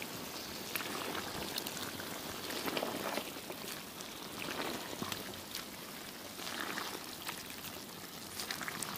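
Potatoes with meat and mushrooms are stirred in a kazan over a tandoor, giving a steady, close, wet sizzling crackle with scattered small scrapes, unbroken and without talk.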